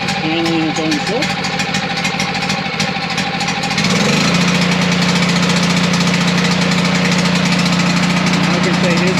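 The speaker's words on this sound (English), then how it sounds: "So now my generator is running." A Westinghouse generator engine starts up with a steady mechanical clatter, then settles into a loud, even running drone, with a voice speaking over it early on.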